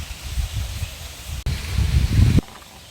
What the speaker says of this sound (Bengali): বন্ধুরা আজকে প্রচণ্ড হাওয়া হচ্ছে, জানি না আজকের রেসিপিটা শেষ করতে পারবো কিনা।